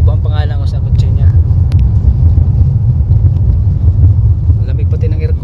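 Inside a moving car, a steady low engine and road rumble fills the cabin, loud and continuous, while people talk over it at the start and end.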